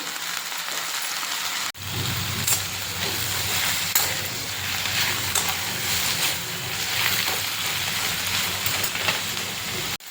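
Pokla leafy greens drop into a kadhai of fried onion, setting off a sudden loud hissing sizzle after a quiet moment, which then crackles steadily close by with soft stirring.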